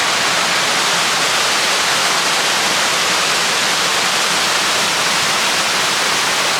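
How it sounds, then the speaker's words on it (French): A waterfall roars steadily outdoors, a dense, continuous broadband rush of falling water that stays loud and unchanging throughout with no voices over it. "Tu vois là c'est la cascade."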